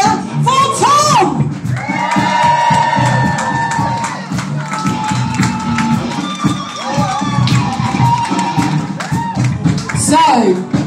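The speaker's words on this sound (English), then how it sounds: "So can I hear you cheer for Tom?" A concert audience shouts, whoops and cheers loudly for the lead guitarist, with high excited voices and some clapping rising and falling over about eleven seconds.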